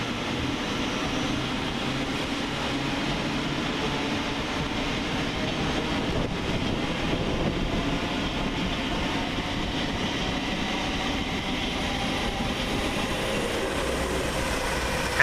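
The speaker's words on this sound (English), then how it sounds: "And in the background departed is 700-121, departed with 1429 Govia Thameslink service from Bedford to Gatwick Airport via London St" A Govia Thameslink Class 700 train pulls out of Luton station, giving a continuous rolling rumble with faint clickety-clack of wheels and a slight squeal, steady throughout with no talking.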